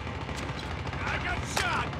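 Call of Duty Mobile Domination match gunfire, a dense spray of distant shots under continuous battle ambience, with one sharper crack standing out near the end.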